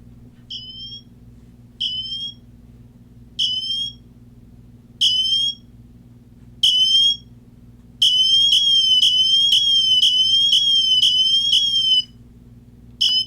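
An Apple Watch Ultra emergency siren sounds in short, repeated piercing bursts, then switches to a rapid continuous warble, loud and close over a low background hum.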